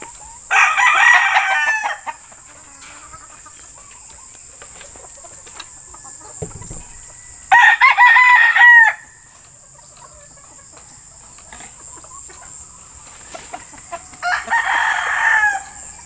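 A yellow-legged Dutch rooster crows loudly three times, each crow about a second long with long quiet gaps between, close by and alone.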